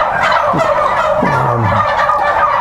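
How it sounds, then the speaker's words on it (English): Loud, close turkeys gobble in rapid warbling bursts on a turkey farm, several birds calling over one another continuously. "So What do these turkeys weigh here, Tom?"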